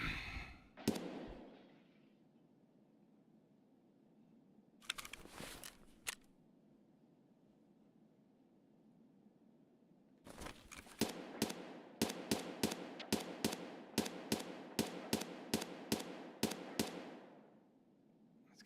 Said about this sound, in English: It's gotta be a scav shooting.